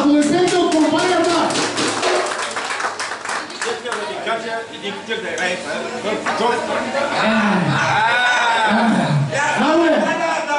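Guests at a Bulgarian party clap along amid loud music and singing, rhythmic hand claps mixed with voices and laughter throughout.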